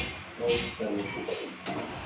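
Sialkoti pigeons coo from a rooftop loft, soft low murmuring calls repeating through the short stretch amid faint background noise.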